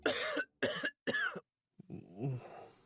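Three harsh, close coughs in quick succession, followed after a pause by a raspy throat-clearing groan.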